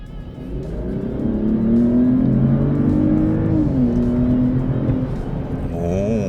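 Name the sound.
car engine revving in sport mode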